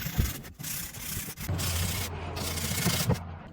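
A sanding sponge rubbed by hand over wood furniture makes steady scratchy back-and-forth strokes, close and fairly loud, with a couple of brief pauses between passes.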